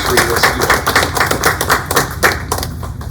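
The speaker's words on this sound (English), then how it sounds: "So a round of applause for all of those who will be celebrating a milestone anniversary" Audience applause fills a town hall meeting, a steady mass of many hands clapping close and loud for the whole stretch, with no voices over it.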